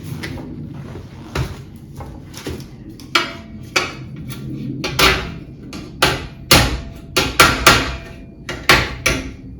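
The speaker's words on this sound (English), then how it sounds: "body hammer to flatten this crease out and just kind of work it back and forth" A body hammer strikes a creased panel of a run-over battery charger's metal casing, flattening the dent with a dozen or so sharp, close metallic blows in an uneven rhythm, some spaced apart and others in quick bursts.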